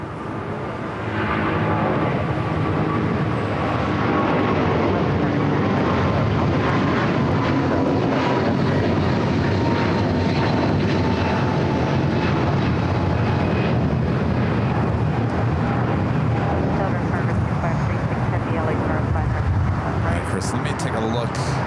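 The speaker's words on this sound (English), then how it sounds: "So that's the flight coming in from London." An airliner arriving on a flight from London at LAX gives off a continuous, loud jet roar with a faint whining tone that sustains for about twenty seconds.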